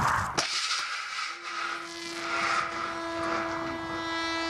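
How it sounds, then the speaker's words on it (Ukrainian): A Shahed-type propeller drone on an experimental test flight drones steadily with a sustained whining tone that rises in, moderately loud and continuous after a brief knock at the start. "Нині перший експериментальний політ їхнього шахеда."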